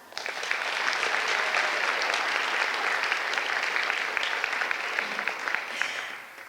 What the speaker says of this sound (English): we'll also give him a round of applause.